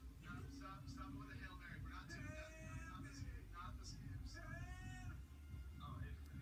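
Several cats meow and yowl in quick overlapping cries, fairly close, over a low background hum with faint murmuring voices beneath.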